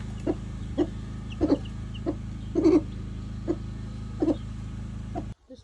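Hens clucking near their chicks while being fed vegetables after a cyclone, a string of short clucks spaced about every half second over a low steady background hum, close by and clear, with no talking.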